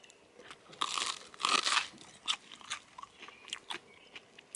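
Someone bites into a crusty, cheesy burger at a campsite in the woods, giving a few sharp crunches followed by quieter, close chewing and crinkling, with no talking.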